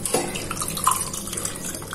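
Water runs into a glass for dissolving yeast and a spoonful of sugar, a steady close trickle and splash with small bright drips, moderately loud and heard alone without talk.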